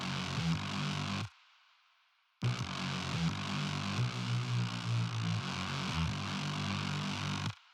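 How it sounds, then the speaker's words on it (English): A buzzy, thick synth bass drone of slightly detuned saw waves with a wide, slightly wavering tone, cutting out briefly to leave a faint tail before resuming. "just a lot of saw waves that are slightly detuned"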